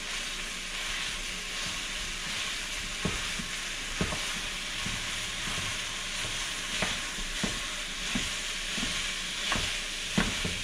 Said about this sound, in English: So we're going to brown the chorizo.